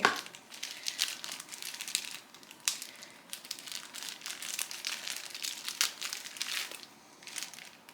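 Heavily taped plastic packaging is torn and unwrapped at close range, giving a steady run of crinkling, crunching and ripping bursts with no talking.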